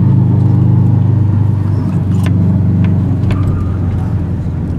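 A 2007 Subaru Impreza STI rounding a roundabout, its engine a loud, steady low drone heard from inside the cabin, holding an even pitch throughout with no talking.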